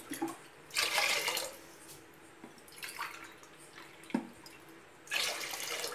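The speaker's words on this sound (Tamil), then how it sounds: "ஒரு கப் அரிசிக்கு 4 கப்பு தண்ணி ஊற்றலாம்." Water poured into a pot of barnyard millet and lentils for pongal: short bursts of splashing and trickling separated by quiet gaps, close and fairly soft.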